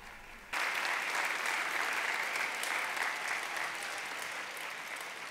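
A church congregation breaks into sudden, sustained applause that stays dense and steady and fades slightly toward the end, with no voices over it.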